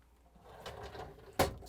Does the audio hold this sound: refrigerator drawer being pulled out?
yes